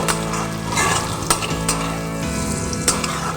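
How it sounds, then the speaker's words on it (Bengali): Ground coriander and Kashmiri chilli powder fry in a pan for a fish curry, with a steady close sizzle and occasional sharp clicks from stirring. No voices. "মশলাগুলো শুকনো মশলাগুলো ভালো করে ভাজা ভাজা হয়ে গেছে"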